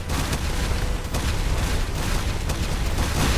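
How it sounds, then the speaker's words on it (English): Dense, loud explosions in a bullet-hell style video game event mode, a nonstop barrage of booms and crackling bursts layered together with no pauses. "These explosions are loud."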